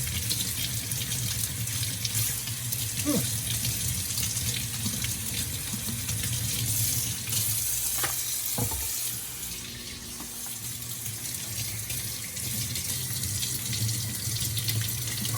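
Tap water runs steadily into a sink while leeks are cleaned, a continuous close splashing stream with a few brief clunks and a short dip midway.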